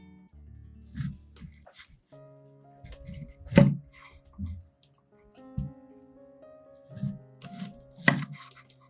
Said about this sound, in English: After the knife is sharp, start cutting the pineapple.